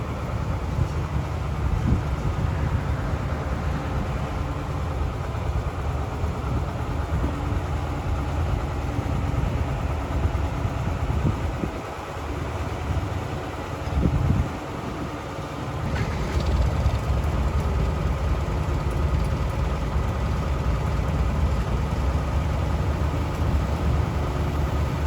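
A Massey Ferguson 1805 tractor's diesel engine idles steadily nearby, a low continuous rumble that dips briefly midway before settling back to its even chug.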